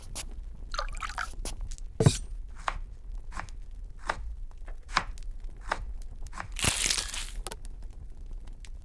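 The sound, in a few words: knife cutting meat on a board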